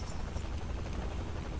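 A helicopter in the video game Saints Row The Third, its low, steady rotor drone and rumble holding at a moderate distance under game noise, with no talk.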